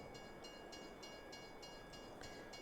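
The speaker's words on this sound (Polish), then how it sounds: "akurat pociąg jedzie, także czekajcie" A train rolling past in the Farming Simulator 22 video game gives a steady, faint rumbling wash with soft rhythmic clicks of wheels on rail joints, repeating about every half second with no talk over it.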